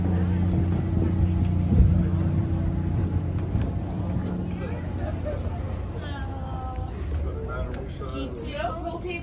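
Engine of a St. Johns River dinner cruise boat at Sanford, a steady low droning hum with wind noise across the microphone and people talking over it.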